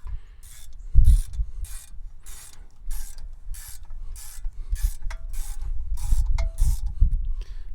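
A bolt is screwed into the front brake caliper of an Audi A6 or A7, giving a steady series of about a dozen rhythmic ratcheting clicks, close and moderately loud, with low mechanical thumps underneath.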